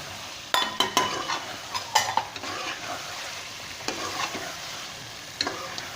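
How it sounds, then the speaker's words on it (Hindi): Ground spices, salt, red chili, turmeric and garam masala roast with ridge gourd and chicken in a pan, giving a continuous close sizzle punctuated by sharp clinks and scrapes of a metal spoon stirring. "सारे मसाला जो हमने इसमें मिक्स कर दिए और अभी इसकी अच्छी तरह भुनाई करेंगे"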